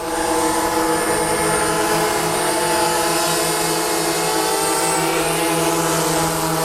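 Two DJI Mavic drones, a Mavic Pro and a Mavic Mini, hover together overhead with a steady, loud propeller whine and hum that holds constant throughout, with no voices.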